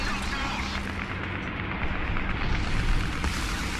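An enemy tank shell striking a Churchill Mk I in War Thunder, heard as a heavy, continuous roaring rumble of impact and engine noise that swells slightly midway, loud and dense throughout.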